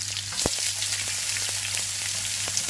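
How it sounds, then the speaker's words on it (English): Sliced peppers fry in hot oil in a pan for vegetable spring rolls, giving a steady loud sizzle with a few sharp pops and crackles and no voices. "we are going to throw in the peppers, and these they should start cooking straight away"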